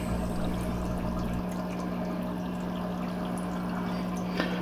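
Water pouring steadily during a water change on a German Blue Ram aquarium, a continuous splashing flow with a low hum underneath, near and unbroken, no talking.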